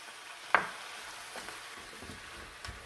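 Crumbled minced meat with spices frying in a pan: a quiet, steady sizzle with one sharp utensil clink early on and a few soft stirring scrapes afterward.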